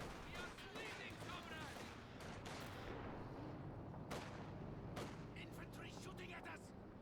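Infantry gunfire in the World War II strategy game Company of Heroes 2, with bursts of rifle and machine-gun fire crackling continuously and a few sharper reports standing out, mixed under faint battle rumble.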